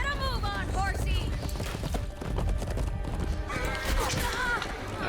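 A horse in a video game clip-clops steadily and whinnies twice, once near the start and again near the end, all under continuous game music and effects.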